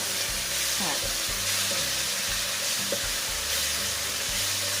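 Squid stir-fried with garlic and pepper until dry, with coriander added, sizzles steadily in a hot pan while a utensil scrapes and clatters in repeated strokes, loud and close.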